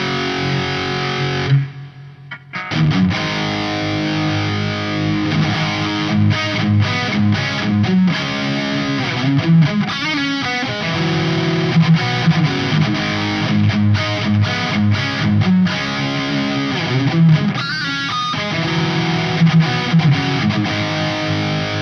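An electric guitar runs through a Lexicon PCM70 rack reverb on a big, eerie room-hall setting. Dense distorted chords ring out continuously with a long washy tail and a brief drop near the start.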